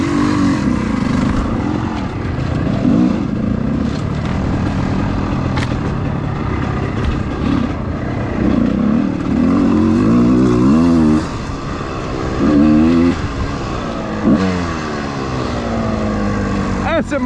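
An off-road motorcycle accelerates along a sandy trail, its engine a loud, steady drone with rising and falling revs and pitch sweeps that continue throughout.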